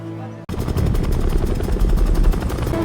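A helicopter in the action film The Old Guard sets four people down in remote grassland; a loud, steady rotor thrum with a pulsing chop bursts in after a brief quiet start and runs on without a break.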